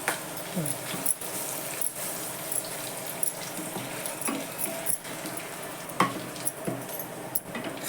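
Garlic, curry leaves and bay leaf frying in a pan with cinnamon and star anise, a continuous moderate sizzle broken by repeated scraping and stirring knocks at close range, with no speech.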